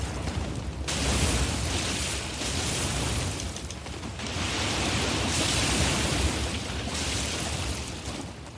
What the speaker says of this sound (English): there is the giant plant creature shooting fire at you